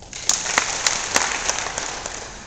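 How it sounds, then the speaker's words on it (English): Audience at a business talk clapping hands, a short burst of applause with several distinct sharp claps standing out over a dense background of clapping. "Clap your hands."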